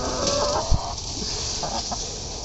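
Backyard laying hens give soft low clucks and murmurs under a steady background hiss, with one brief louder knock partway through.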